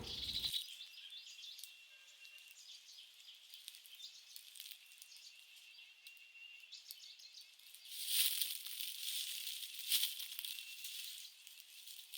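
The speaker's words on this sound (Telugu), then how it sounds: "ఈ మధ్యలో ఫామ్లో రకరకాల బర్డ్స్ శబ్దాలు వినపడుతున్నాయి" Faint, high chirps and calls from various birds in the distance on a farm, with a thin insect-like buzz underneath and a slightly busier stretch partway through.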